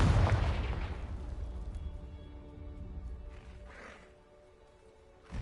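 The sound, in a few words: Confringo blasting curse explosion, video game Hogwarts Legacy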